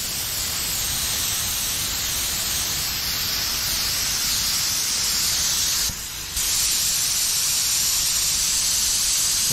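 White spray paint hisses steadily from a can or gun over a masked stencil on a Ford P100 shop truck, a loud, close, continuous broadband rush with one brief break midway before spraying resumes.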